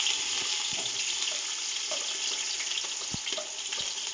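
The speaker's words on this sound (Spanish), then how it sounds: "Vamos a sofreír cebolla larga" Chopped green onion sizzles in hot oil in a pot, a steady close frying hiss with a few faint clinks of stirring.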